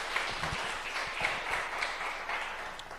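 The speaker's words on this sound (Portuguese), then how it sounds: "Pode aplaudir." A church or event audience applauds after a spoken testimony, a steady, fairly soft wash of clapping with scattered sharper claps, heard from a distance and without any speech over it.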